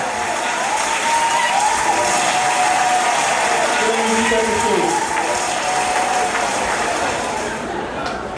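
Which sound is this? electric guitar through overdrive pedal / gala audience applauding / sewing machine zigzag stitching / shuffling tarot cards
gala audience applauding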